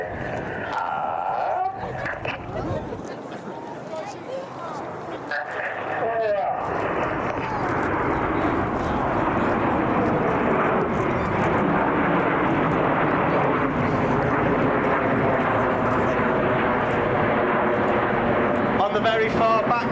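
An RAF Eurofighter Typhoon fighter jet flies a display at an airshow, its loud broadband roar swelling after a few seconds and then holding steady as a sustained, powerful rumble, with a commentator talking over the start.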